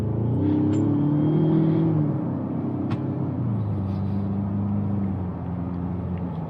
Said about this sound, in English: Have to get those RPMs up just to get it going.